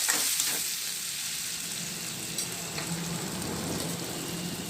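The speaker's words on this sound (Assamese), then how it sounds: "পিঁয়াজখিনি তেলতে অলপ ভাজি লোৱাৰ পিছতে কেপচিকামখিনি দি দিলোঁ।" Chopped onion and capsicum frying in oil in a kerahi pan, giving a steady, close hiss and crackle that carries on evenly with no one talking.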